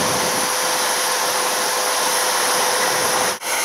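A shop vac pushes air back out through the jets of a drained hot tub, giving a steady loud whooshing roar with a constant motor whine that dips briefly near the end.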